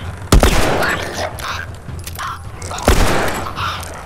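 Gunfire in The Last of Us video game: two sharp, loud shots about two and a half seconds apart, each trailing into a rough decay, with game ambience and a voice talking between them.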